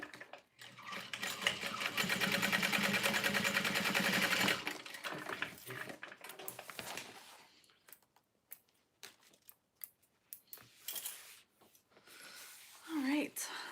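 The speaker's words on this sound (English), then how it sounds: "I'm gonna flip this over and top stitch through." A sewing machine runs a top-stitching seam next to Peltex stiffener in a single close, steady, whirring burst of about four seconds, then stops; afterward come soft handling noises of fabric and a quiet voice talking.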